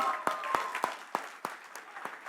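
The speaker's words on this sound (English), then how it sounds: "I think we should cheer for the fans now who are present here" An audience applauds at a press conference for the Zee Cine Awards 2025, with sparse, distinct claps in a loose rhythm, fairly close and moderately loud.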